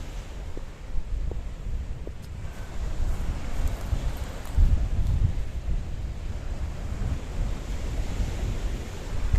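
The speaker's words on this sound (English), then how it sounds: "Look at these waves crashing on these rocks." Waves crash against rocks on the windy Paphos coastline of Cyprus, a continuous rumbling wash with surging swells and steady wind buffeting, no voices over it.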